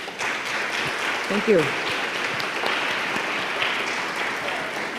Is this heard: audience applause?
yes